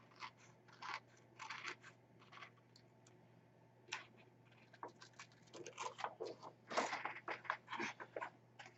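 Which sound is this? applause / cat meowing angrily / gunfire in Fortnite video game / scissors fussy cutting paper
scissors fussy cutting paper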